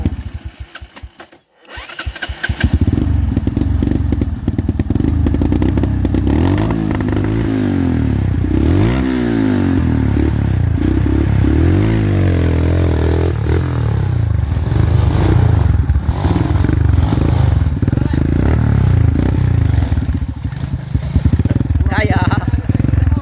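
An enduro motorcycle on a summit lava trail starts with a brief stutter, then revs hard and repeatedly, with rising and falling engine howls for about twenty seconds, close and loud with a voice now and then.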